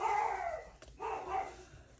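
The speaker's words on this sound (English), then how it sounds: "he's a little Maltese, so he's going to bark" A small Maltese dog gives a couple of short, yippy barks indoors, fairly faint and a little distant, with no talking over them.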